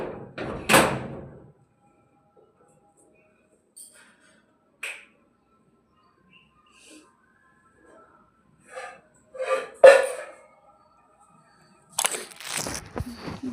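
A house door unlocked and opened: a sharp metallic rattle of the lock at the start, then scattered clicks, a handle clack and a door thud later on, close and otherwise quiet.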